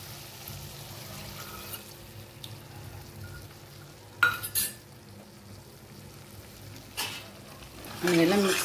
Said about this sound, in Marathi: आणि याला मिक्स करून घेऊया चांगलं